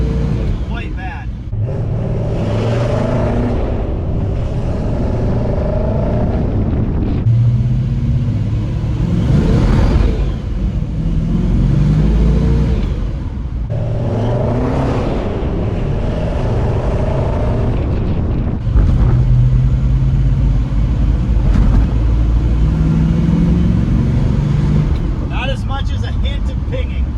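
The rebuilt engine of a 1961 Studebaker Hawk pulls under throttle on the road, droning and rising in repeated surges with rumbling wind and road noise, loud and close, while someone talks over it.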